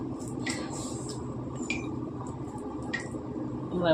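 Chicken leg pieces being mixed by hand with cornflour and a little gram flour, giving soft, steady wet squishing close by over low kitchen background noise, with a few faint high chirps.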